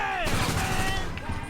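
Gunfire in GTA 5 sounds as loud, rapid shots that overlap in a dense burst, heard up close under game noise and a voice.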